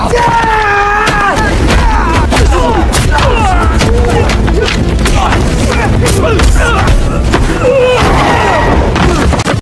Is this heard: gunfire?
yes